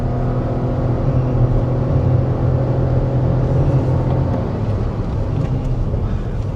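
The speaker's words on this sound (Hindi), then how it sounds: "ये विंड नॉइज़ भी आने लग गई है अंदर" Steady low wind roar and road rumble inside the cabin of a moving car cruising above 100 km/h, a continuous broadband hum with no talking.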